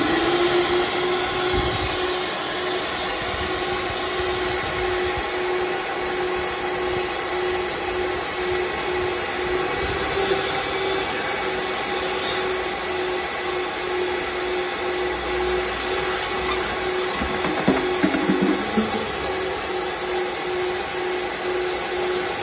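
A gutter vacuum system with a cyclonic inlet runs steadily with a loud, droning suction whine, occasional rattles and clunks as large debris is pulled through the hose.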